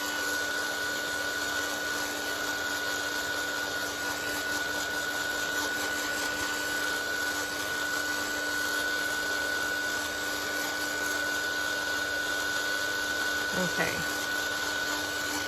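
A dryer blows steadily to dry thick paint on a painted book page, a constant loud whooshing hum with a fixed tonal whine throughout; a voice speaks briefly near the end.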